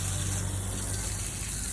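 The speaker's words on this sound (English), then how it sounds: "Get a hose and just wash all the dirt away." Garden hose spraying water to wash dirt off artificial turf and brick edging, a steady close gushing rush that holds level throughout with no break.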